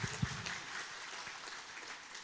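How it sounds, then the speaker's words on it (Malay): Applause for Banjari musicians at a religious lecture gathering, a faint, distant crowd clapping that holds steady throughout, with one brief thump near the start. "Beri tepuk tangan untuk mereka semua yang bagus."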